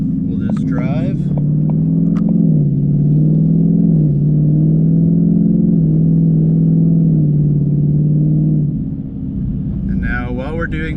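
A Ford S550 Mustang GT V8 cruises in normal drive mode with a steady, deep engine drone and low rumble, close and constant, while a person talks briefly at the start and end.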